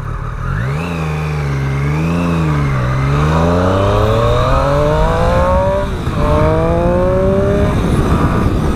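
A 2018 Triumph Street Triple R motorcycle engine howls loudly and close, revving up and down through several sweeping climbs and shifts, with rising pitch as it accelerates through gears.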